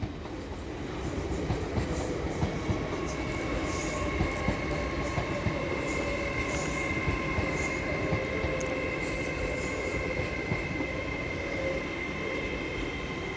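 A train passes through York station on the East Coast Main Line, a loud, steady rumble of wheels and carriages that holds throughout with faint rail squeal and no talking.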